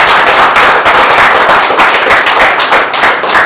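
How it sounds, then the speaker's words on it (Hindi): A crowd applauds at a Hindi-language presentation about a crypto earning plan, with steady, dense clapping filling the space from start to finish at high volume with no talk over it. "तो दोबारा तालियां उन शख्स के लिए"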